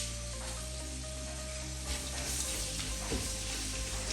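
Onions and curry leaves frying in hot oil as they are stirred, giving a dense, continuous sizzle heard close up, with a few soft stirring touches and no talking.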